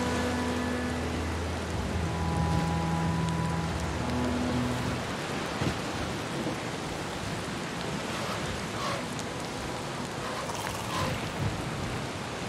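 Steady rain hisses with gusting wind in a Valheim game scene, soft and continuous, with faint tonal game sounds early on.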